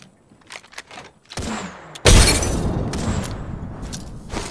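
A frag grenade goes off in the shooter Apex Legends. A heavy, close blast lands about halfway through and spreads into a long, rumbling tail, after quieter scattered shots and clicks.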